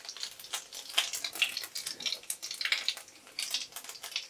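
Whole cumin and nigella seeds sizzling and popping in hot oil over a low flame, a faint, steady crackle with small sharp pops scattered throughout.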